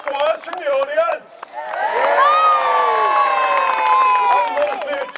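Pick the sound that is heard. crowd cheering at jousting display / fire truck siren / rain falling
crowd cheering at jousting display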